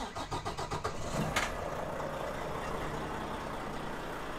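A 2020 Volvo VNL 860 truck engine cranks with rapid starter pulses, catches with a burst, then settles into a steady low diesel idle, fairly distant and quiet.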